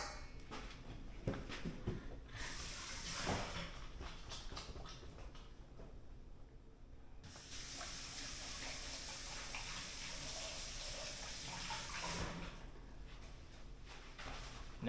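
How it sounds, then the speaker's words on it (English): Hands washed under a running kitchen sink tap, a steady faint stream of water with brief louder gushes as the hands move through it. "wash my hands"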